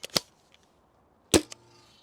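A modified Sembylon Valkyrie Nerf blaster, reworked to take Worker Talon magazines and hit harder, fires two sharp, snappy shots about a second apart, each with a short rattle, in an otherwise quiet room.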